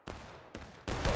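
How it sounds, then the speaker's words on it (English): Musket volleys from a rank of soldiers in the Civil War video game War of Rights, three loud cracking bursts in quick succession, the last sustained and rolling. "Oh, devastating volley."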